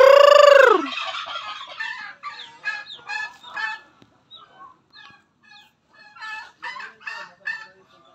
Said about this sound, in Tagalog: yung pabo.